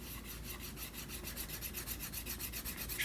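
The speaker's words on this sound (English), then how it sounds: "just start burnishing it" A leather knife sheath edge is burnished by hand, giving quick, rhythmic rubbing strokes, about five or six per second, that stay steady and fairly quiet over three seconds.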